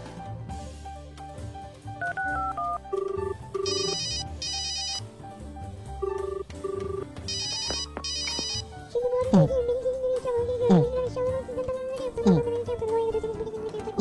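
A mobile phone rings loudly and repeatedly with a melodic ringtone when a mobile number is called, its tone bursts and short electronic beeps in a steady pattern, with a voice joining near the end.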